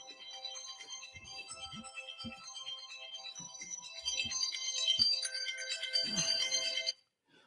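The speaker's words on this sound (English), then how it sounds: "My phone is ringing." A phone ringtone plays as a repeating melodic tone for about seven seconds, clear and fairly loud, then stops abruptly; faint voice-like sounds sit underneath.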